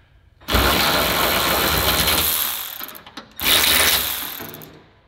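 A ratchet loosens 19 and 17 mm bolts on the suspension control arm of a Nissan GTR, heard as two loud, close bursts of rapid clicking separated by a brief pause.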